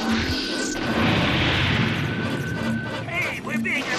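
Cartoon spaceship weapons firing on intruding ships in an animated space battle: a dense, loud barrage of blasts and crashing booms, continuous and near.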